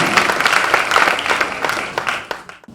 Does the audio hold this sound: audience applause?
yes